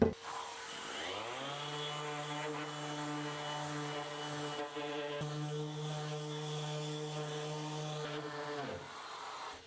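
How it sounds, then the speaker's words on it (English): Power sander running on a wooden knife and saw rack fresh off the thicknesser, spinning up to a steady loud whine that holds for several seconds and then winds down. "I am going to give it a quick sand down"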